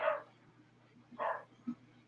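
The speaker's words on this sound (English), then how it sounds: "Oh, now my dog's going." Three short barks from a pet dog, faint and somewhat distant, spaced over about two seconds in a quiet room with a low hum beneath.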